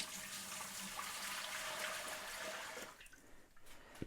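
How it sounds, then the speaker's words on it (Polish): Spirit vinegar runs from a 30-litre pot still into a small container during a cleaning run, a steady trickling and splashing liquid flow that thins out toward the end, with no talk. "Ocet spirytusowy leci do pojemniczka"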